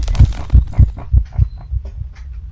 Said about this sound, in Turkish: bu dum dum dum dum kalp atışı gelince ampul patlıyor